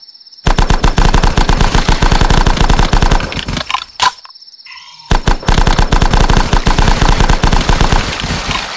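Rapid automatic gunfire from weapons in The Last Stand video game hammers out in loud, continuous bursts. It breaks off briefly around the middle, with a few isolated shots, then resumes at full intensity.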